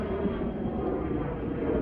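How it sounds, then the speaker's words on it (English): A jet airplane passes high overhead above a garden, a steady broad rumbling roar with no talk. "I thought about that jet up there and wanted to let y'all take a look."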